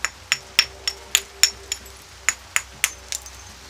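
Flint being knapped, short flakes struck off the edge of the stone: a dozen or so sharp, close clinking taps at an irregular, unhurried pace, each ringing briefly.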